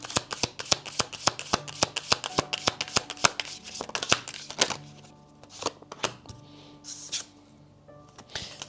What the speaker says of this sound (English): let's get some cards.